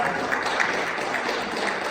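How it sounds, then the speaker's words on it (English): An audience applauds as a young guest named Anthony Morris is brought up to give a testimonial; dense, steady clapping holds at an even level throughout. "give him a round of applause"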